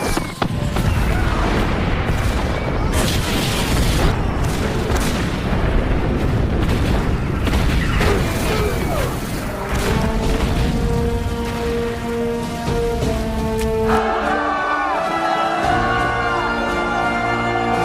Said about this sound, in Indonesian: Keesokan harinya senjata Katyusha mulai dioperasikan